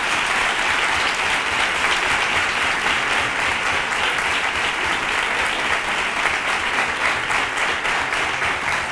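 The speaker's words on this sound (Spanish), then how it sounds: "recibamos con un fuerte aplauso a mi chacha, a mi hermano, Antonio Cornejo" A crowd at a Three Kings proclamation and coronation event in Nerva gives loud, dense, sustained applause that holds steady and close throughout, with no pauses.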